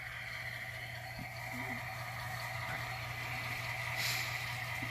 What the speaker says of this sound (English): That engine sounds really, really good in the engine shop.